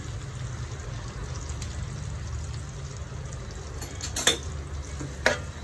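Sliced onions frying in a pan for a beef fry give off a low, steady sizzle, with a couple of brief utensil clinks and stirring scrapes near the end.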